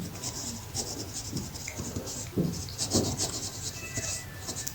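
Repeated scratchy strokes of a formula being written on a board during a math lesson, rhythmic and close, with a faint voice speaking underneath.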